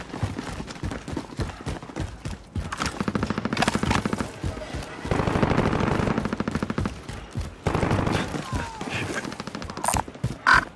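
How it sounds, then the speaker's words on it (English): Gunfire in the battle royale video game Warzone on Rebirth Island, rapid automatic bursts and scattered shots recurring through the clip at moderate loudness, mixed with game effects. "Receiving hostile fire."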